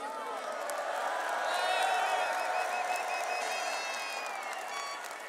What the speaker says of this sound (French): Je vous invite à les applaudir une dernière fois.